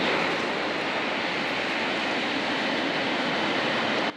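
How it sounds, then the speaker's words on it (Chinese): A high-speed rail train passes close to a residential neighborhood in Taichung, Taiwan, producing a loud, steady broadband roar that holds for about four seconds before cutting off abruptly. "高铁经过因的社区的时，造成真大的噪音"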